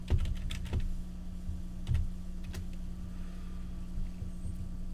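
Password being typed on a computer keyboard in the Deepin 15.3 desktop: a quick run of close key clicks, heavier at the start and then sparser, over a steady low hum.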